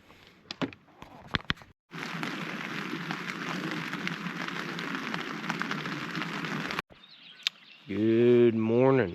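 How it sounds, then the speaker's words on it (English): Light rain patters steadily on a forest campsite during an overnight solo backpacking trip in Allegheny National Forest, a broad even hiss that runs for several seconds between quieter stretches with brief clicks, followed by a person talking near the end. "The rain is just lightly coming down all throughout the night."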